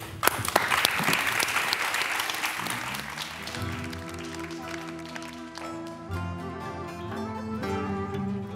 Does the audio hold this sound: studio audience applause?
yes